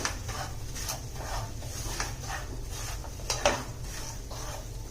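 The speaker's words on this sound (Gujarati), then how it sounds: "હજુ આપણે રવાને થોડો શેકશું." Semolina roasting in a pan on low gas is stirred with a utensil, giving soft rhythmic scraping strokes and occasional light clinks over a steady low hum.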